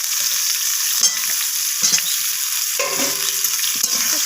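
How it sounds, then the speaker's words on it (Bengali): Cut potato, plantain and papaya fry in a pan, a loud close hiss of oil with several distinct spatula scrapes spaced about a second apart, no talking. "তো সমস্ত কিছু নাড়াচাড়া করে এইভাবে ভাজা ভাজা করে নিচ্ছি একটু।"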